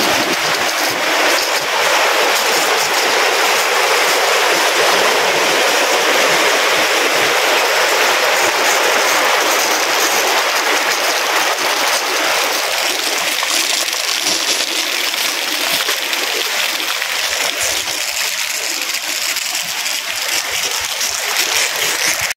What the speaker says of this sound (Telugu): సౌండ్ చూడండి ఎట్లా వస్తుందో, నీళ్ళు చూడండి ఎంత ఫోర్స్ వస్తుందో.